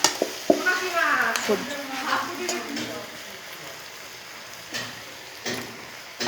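A fish head fries with spices in a pan, a soft sizzle under scraping stirs early on that fades to a quieter hiss, with brief stirring bursts later.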